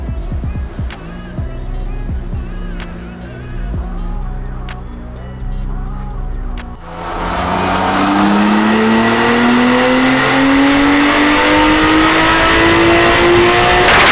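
A freshly built 2JZ engine in an S14 car idles on a dyno with a rough, ticking burble, then roars into a long, loud rev that climbs steadily in pitch.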